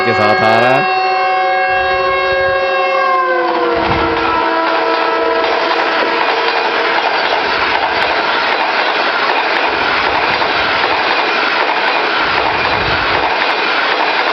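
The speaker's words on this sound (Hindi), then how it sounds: "ये ब्रांड न्यू कराक्रम एक्सप्रेस की कोचेस के साथ आ रहा है।" Locomotive 6142 hauling brand-new Karakoram Express coaches sounds a long, loud multi-tone horn blast, then rolls past with a steady rumbling clatter of wheels and coaches.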